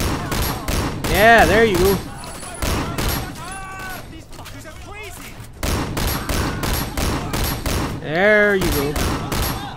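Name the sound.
shotgun fire in the video game Sleeping Dogs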